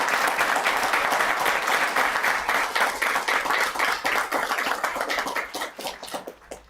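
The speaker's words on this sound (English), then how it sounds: "Please let's give them another round of applause." An audience at a town council meeting claps loudly and continuously in a room, the dense applause thinning into scattered claps near the end.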